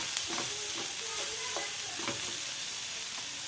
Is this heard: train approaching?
no